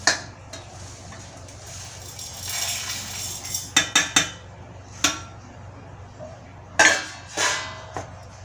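Dry dabeli spices rustle and patter into a mixer grinder jar, with sharp clinks and taps of a spoon against the container.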